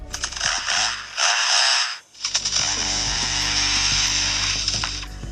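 A lyrebird imitates a chainsaw, giving a loud, buzzing mechanical whine that runs steadily, breaks off briefly, then resumes for several seconds, heard alone and close.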